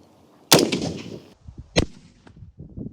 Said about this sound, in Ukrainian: Працювати буду зараз кулеметним набоєм 147 грейн зі сталевим осереддям.